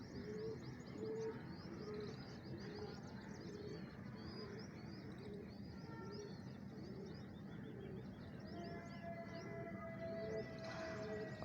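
Soft pigeon cooing from a flock of racing pigeons repeats steadily over a bed of chirping birds and light outdoor ambience, continuous and fairly distant.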